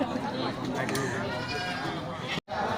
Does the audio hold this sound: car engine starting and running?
no